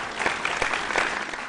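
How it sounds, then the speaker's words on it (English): Audience applause at a secondary school quiz show, a short burst of dense clapping from a crowd at even strength, with no voices over it. "Give them a round of applause."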